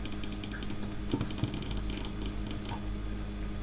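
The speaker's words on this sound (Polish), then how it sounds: "to sprawdźmy ile ja klikam. Licznik CPS-ów, jakie wyklikam" A mouse is clicked rapidly during a Minecraft click-speed test, giving a fast, steady train of sharp clicks close to the microphone over a faint mechanical background hum.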